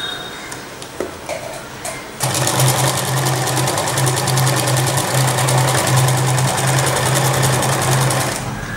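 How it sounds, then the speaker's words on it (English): A sewing machine running a double stitch along a round mini skirt, starting with a few short bursts and then settling into a long, steady, loud whir with a constant rhythmic hum, close up and without talk. "One double stitch here."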